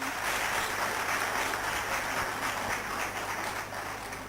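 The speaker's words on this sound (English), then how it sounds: "Please have a huge round of applause for our Chief Guest." Audience applause at an international academic conference at Biyani College, welcoming the chief guest; steady, dense clapping fills the whole stretch at an even level, with a low hum underneath.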